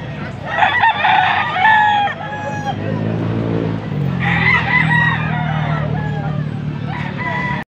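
Gamefowl roosters from Candaba, Pampanga crow loudly in repeated calls with clucking between, close by at a busy fowl market, with voices talking underneath.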